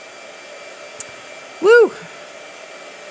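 A blow dryer runs with a steady, even whirring drone throughout, while a person lets out a short, loud, wavering whoop partway through.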